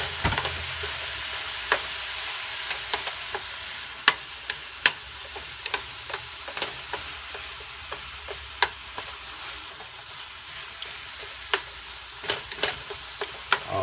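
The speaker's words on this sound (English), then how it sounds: "my turkey is browning up very nicely" Ground turkey browns in a pan with a soft continuous sizzle, punctuated by regular clicking scrapes of a utensil stirring and turning the meat.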